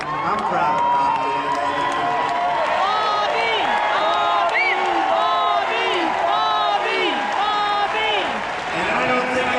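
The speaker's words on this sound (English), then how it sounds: "I don't think I've ever introduced anyone that got applause like he just got" Loud arena crowd erupting in sustained applause and cheering for Bobby, with dense clapping, shouts and whistles continuing steadily throughout.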